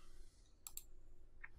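Two quick mouse clicks close together, then a single fainter click a moment later, made while alt-clicking a layer mask during Photoshop landscape editing; quiet room, no talking.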